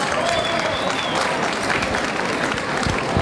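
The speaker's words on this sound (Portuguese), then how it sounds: "Uma salva de palmas." Loud, dense audience applause fills a Caribbean TV show as Aruba's representative is introduced, a steady wall of many hands clapping with crowd murmur mixed in.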